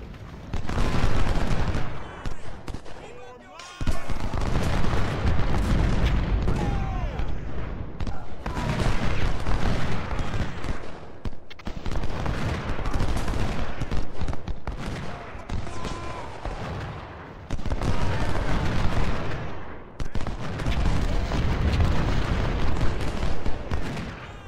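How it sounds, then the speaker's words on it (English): Artillery and gunfire in the video game Ultimate General: Civil War, loud continuous volleys and booming cannon shots in repeated bursts with brief lulls between them. "Artillery on them, boys."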